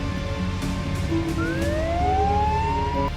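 A police siren in the game PUBG begins wailing, its pitch sweeping upward over a steady background rumble; distant at first and growing clearer, no voices.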